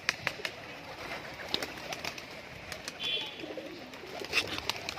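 Giribaz pigeons at a sale give soft, faint cooing amid light scattered clicks and rustles, with a quiet, steady background.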